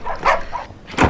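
A dog barks twice, sharp and fairly close, a pair of short yaps with a brief gap between them and a stronger final bark, alone without talk.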